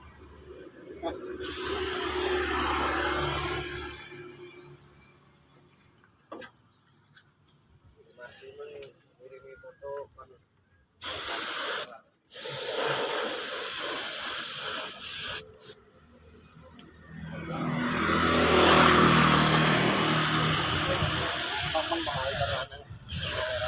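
Aerosol spray paint hissing onto a Honda Beat motorcycle body panel, repainted without removing the panel, in long loud bursts separated by short pauses and quieter stretches.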